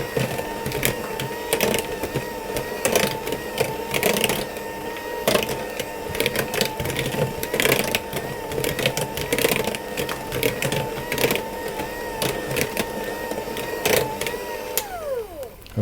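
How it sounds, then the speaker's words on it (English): Cake batter for old-fashioned queen cakes, with sugar and dried fruit just added, being mixed in a bowl: a steady, dense run of scraping and clattering strokes that keeps going close by with no talk, then stops abruptly at the end. "I'm going to mix it again to get those combined"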